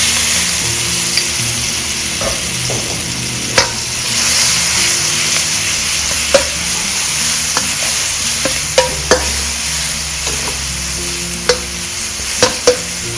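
Shallots, garlic, fresh chili and pounded shrimp paste frying in hot oil, a strong continuous sizzle with sharp clicks and taps of a spatula against the pan at scattered moments, near and alone.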